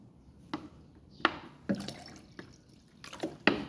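Water poured into a glass while making honey-sweetened lemon sharbat, heard as a handful of separate splashes and drips spaced a second or so apart, close and fairly quiet with no talking.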